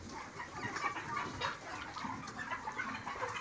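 Chickens on a poultry farm, about 42 days old, cluck and murmur softly in a continuous low flock chatter, faint and fairly distant, with no talk over them.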